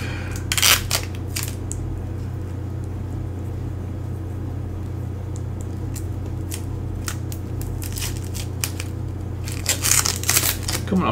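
Protective plastic stickers crackle and rip as they are peeled off an EVGA RTX 3080 graphics card. Short, crisp tearing bursts come near the start and again toward the end over a low steady room hum.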